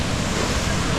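Rushing water from a waterfall at an outdoor cabin site in Kathiri, a steady dense broadband roar filling the whole second without pause, loud and close, with no voices over it.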